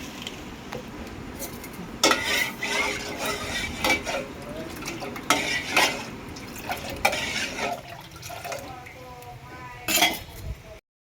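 Semai vermicelli cooking in milk on a stove is stirred with a utensil that clinks and scrapes against the pot in repeated bursts at close range, with a steady background hiss.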